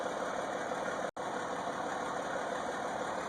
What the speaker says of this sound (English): let's go stop this tractor here a minute